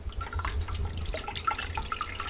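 Ice-cold water trickles and splashes as it is poured down the spout of a coffee pot, a steady close pour with small drips and gurgles.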